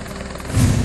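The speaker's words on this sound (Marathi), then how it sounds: "अनेक ठिकाणी नागरिकांचं हेलिकॉप्टरनं बचाव कार्य" Helicopter rotor and engine noise from a rescue flight over a flooded town, a brief steady whir that swells louder toward the end.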